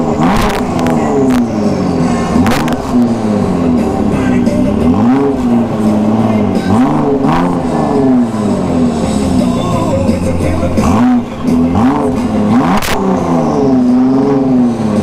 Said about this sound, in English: let you rev it up a couple times and shut her down